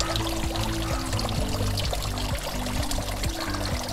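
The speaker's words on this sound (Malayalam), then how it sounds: "അത് ഓരോ ബെഡുകളിലേക്കും വെള്ളം ചാടുന്നുണ്ട്" Water pours steadily from a pipe into the grow beds of a low-cost aquaponics system, a continuous close splashing stream with a faint rhythmic mechanical hum underneath and no talk.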